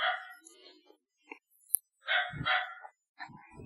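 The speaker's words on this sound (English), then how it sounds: "There goes the dog." A dog barks in short bursts indoors, a couple of loud close barks standing out between quieter yelps, with no one talking over it.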